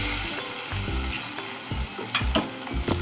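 Leafy bhaji greens sizzle in a hot pan over a high gas flame, with steady frying crackle and repeated spoon scrapes and stirs sounding close and continuous.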